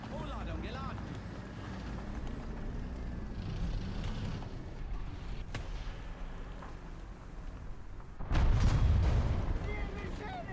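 Artillery fire in the War Thunder tank game, a continuous rumbling battle bed that ends in a loud, heavy low boom about two-thirds through, with a voice speaking over the mix.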